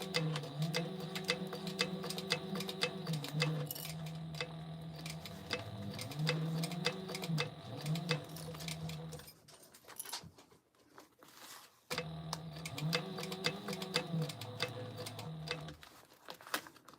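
A sewing machine runs a steady, fast-ticking stitch across a quarter-inch seam on a pouch, in longer runs broken by brief stops and speed changes.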